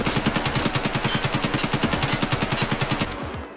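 AKM 7.62 rifle firing fully automatic in Escape From Tarkov: one long rapid burst of evenly spaced, loud, close shots for about three seconds, then stopping with a brief fading tail.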